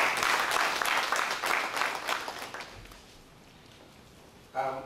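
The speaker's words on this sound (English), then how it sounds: "I'd like us to give her a round of applause." Applause at a prison workshop on inmate behavioural and cognitive modification, moderately loud clapping that fades out over a few seconds, followed by near quiet and a brief voice at the very end.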